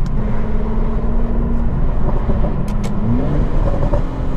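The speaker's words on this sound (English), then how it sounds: "let's throw this car into sport mode, and you'll notice the soundtrack change straight away" An Aston Martin DBS Superleggera engine in sport mode rumbles deep and loud at close range, holding a steady growl with a slight rise in revs near the end.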